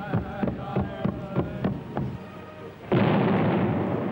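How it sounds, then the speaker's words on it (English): Fireworks at the Oklahoma Centennial celebration, a rapid series of about seven sharp bursts and booms in the first two seconds, followed by a loud sustained crackling roar, with no talk. "at night, fireworks"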